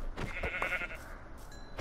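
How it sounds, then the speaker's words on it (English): A single Minecraft sheep lets out one short, wavering bleat, fairly close and clear, then fades into quiet game ambience. "Sorry, another sheep."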